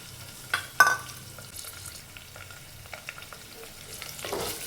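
Onions, curry leaves and carrot pieces stir-fried in a pan, steady close sizzling with a couple of sharp clinks and scrapes of a spoon stirring, no voices.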